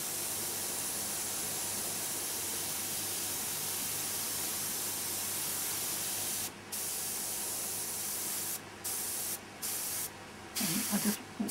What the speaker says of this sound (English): I'm spraying down here to start off with.